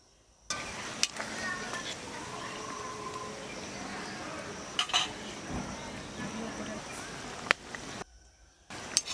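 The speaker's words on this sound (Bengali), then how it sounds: "আবার আমি এটাকে ভালো করে নেড়ে চেড়ে নেব।" A spoon stirs katla fish curry in a pan, scraping and clinking against the metal in close, irregular strokes, with a few sharper knocks along the way.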